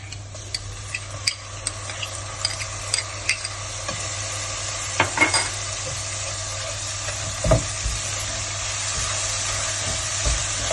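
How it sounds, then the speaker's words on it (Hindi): Steady soft sizzle of ginger and garlic frying in a pan with occasional scraping stirs and light clicks, no voices. "इसको थोड़ा सा भूने ताकि इसकी जो स्मेल होती है अदरक लहसुन की वो खत्म हो जाए"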